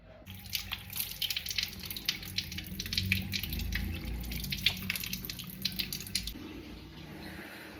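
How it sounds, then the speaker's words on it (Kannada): Tap water runs and splashes as someone rinses their face at a sink, a close, continuous wet splatter with irregular drips and slaps that stops abruptly near the end, leaving a quiet room hum. "ಒಂದು ಸ್ವಲ್ಪ ಮುಖಕ್ಕೆ ನೀರು ಹಾಕೋತೀನಿ."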